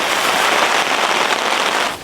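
Heavy rain beats on a tent and tarp during wild winter weather, a dense steady hiss of drops pattering on taut fabric, close and loud without a break, easing slightly at the end.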